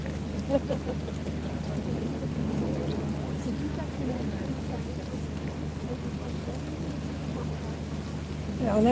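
Rain falls steadily in Paris in a broad, even hiss, with faint low rumbling and occasional soft voices in the background.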